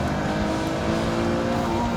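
A Noble M400 sports car accelerates hard on a race track with a steady, loud engine drone that holds level throughout, heard from inside the car with no talking.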